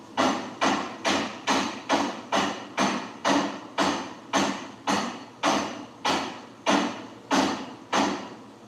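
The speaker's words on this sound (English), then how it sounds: "I'm using a lead hammer, so I'm not putting any bars or marks on here." Steady, evenly spaced lead hammer blows on metal near a weld, about fifteen dull heavy strikes in a regular rhythm, close and fairly loud with no talking.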